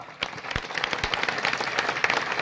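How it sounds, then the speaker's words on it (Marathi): Applause from a crowd of women at an outdoor political rally, a dense burst of clapping that builds and holds steady for a couple of seconds. "त्यांच्यासाठी एकदा आपण टाळ्या वाजवा"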